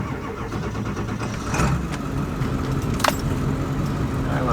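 A Ford 7.3L Powerstroke diesel engine runs steadily at a rough idle just after starting, loud and close, with a brief sharper burst midway and no talk over it.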